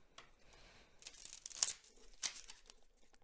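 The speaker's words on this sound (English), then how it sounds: "One more shuffle." Quiet papery riffling and a couple of brisk snapping flutters, like cards being shuffled close by, with soft rustling between them.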